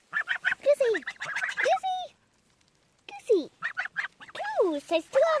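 Two farm geese honk repeatedly and loudly close by while being fed bread, with a string of nasal calls, a short pause, then more honking.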